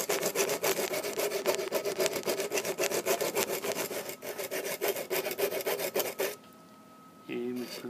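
Electric hedge trimmer blades are sharpened with a hand file, sharpening each one until it is shiny metal: steady, rapid back-and-forth rasping close up, continuous for several seconds before breaking off into a brief quieter pause.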